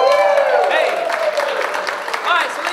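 Loud crowd cheering with clapping mixed in at a magic show, topped by a prominent shouted vocal that rises and falls over the noise.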